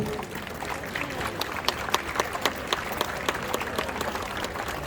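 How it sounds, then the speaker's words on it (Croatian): Crowd of spectators applauding the cavalry in an imperial procession at Bjelovar's Terezijana festival, a broad, even clatter of clapping with sharper individual claps standing out, fairly distant and steady throughout. "dajte molim vas aplauz za konjicu"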